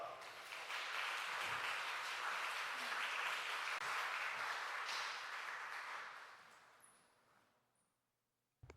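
A church congregation applauds to welcome a missionary from the Philippines, a full, steady wash of clapping that holds for about six seconds and then fades gradually to silence.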